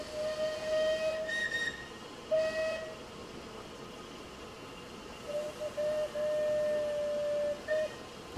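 Steam locomotive whistles in Train Simulator 2020, from engines such as the Merchant Navy Clan Line and a Canadian Pacific loco: several steady, tonal blasts of varying length over a constant rumbling engine bed.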